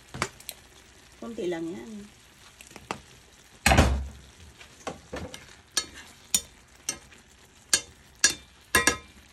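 Koya-dofu frying in sesame oil, soft sizzling and crackling bursts with stirring clatters and utensil taps, while a person speaks briefly over the pan.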